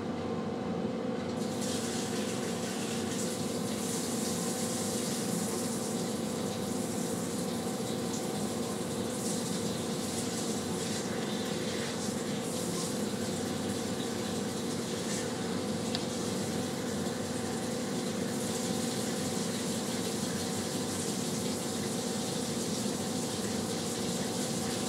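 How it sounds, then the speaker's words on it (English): Machining coolant sprays continuously from servo-controlled coolant nozzles, making a dense, steady rushing gush of liquid with a constant pump-like hum underneath. The sound stays even and unbroken throughout. "I'm gonna turn my coolant on here."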